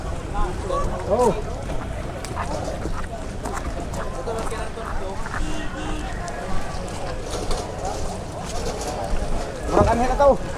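A motor boat engine runs steadily under wind noise and water sounds, with people talking nearby, on a trip to Socorro.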